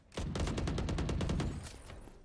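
A Killjoy swarm grenade going off in a Valorant match, a fast, evenly spaced train of a dozen or so sharp popping bursts, loud and close for about a second and a half before fading.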